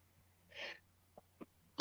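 A single soft sneeze, followed by a couple of faint breathy sounds and the onset of another noise at the end, in a quiet indoor setting.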